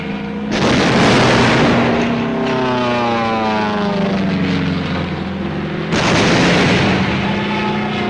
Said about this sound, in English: supporting ships deliver point-blank fire.